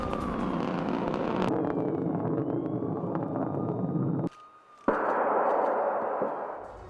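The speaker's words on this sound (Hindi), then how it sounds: "यार्स Tu-95 बम वर्षक मिसाइल का टेस्ट हुआ है" A Russian Yars ballistic missile launching in a test: a loud, sustained roaring rush of rocket exhaust that cuts out abruptly for a moment, then resumes and slowly fades, with no talk.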